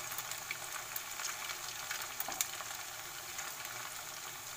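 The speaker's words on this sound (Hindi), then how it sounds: "ऐसे डालना है और इसे अच्छी तरह से डीप फ्राई करना है, हाई फ्लेम में" Noodles deep frying in oil on a high flame: a faint, steady hiss and bubbling crackle with a few light pops, heard alone.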